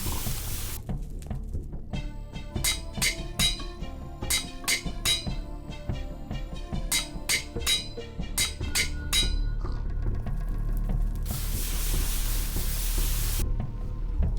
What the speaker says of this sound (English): Ah, the sounds of smithing.